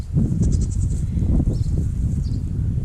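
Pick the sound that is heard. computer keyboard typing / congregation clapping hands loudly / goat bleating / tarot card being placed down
goat bleating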